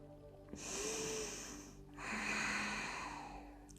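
Slow, deep breaths during a yoga session: two long, airy breaths each lasting over a second, close and soft, with no talk.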